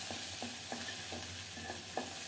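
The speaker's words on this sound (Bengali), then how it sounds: "নেড়ে চেড়ে শুটকিটাকে খুব সুন্দর করে ভেজে নেব তেলে দেওয়ার সাথে সাথে গলে গেল" Homemade dried fish (chepa shutki) frying in a little oil in a pan, a steady close sizzle with periodic scraping stir strokes roughly every third of a second, no voices.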